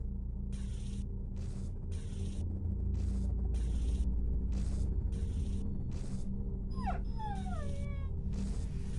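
A burnt dog in the X-Com Files video game gives a short run of rising and falling whimpering yelps, close and fairly clear. They sit over a steady game hum with repeated bursts of hiss.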